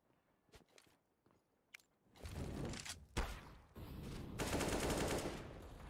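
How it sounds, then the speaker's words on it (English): Gunfire from a competitive Counter-Strike match on the map Dust: a few scattered sharp shots at first, then a dense sustained burst of rapid firing and impacts that grows louder, with no voices. "some shots initially coming through"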